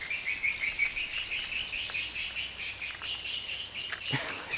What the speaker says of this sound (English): Listen to how loud the birds are. The birds are so loud.